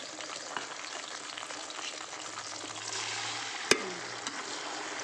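Steady crackling sizzle of battered okra fritters (bajji) deep-frying in hot oil, with a sharp clink near the end and a low hum underneath.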